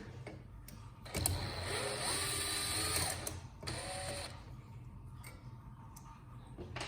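A power screwdriver fitted with a Torx T15 bit backs screws out of a Kirby Ultimate G vacuum cleaner, with two short whirring bursts of the motor, close and clear, separated by light clicks and handling noise.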